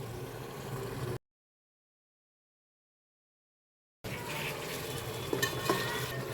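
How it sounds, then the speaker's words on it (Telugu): Mutton simmering in oil and ghee on a low flame, a soft steady sizzle with faint bubbling and occasional small pops, quiet and close, broken by a stretch of silence in the middle. "మటన్ అయితే నిదానంగా సిమ్లో మగ్గించాలండి"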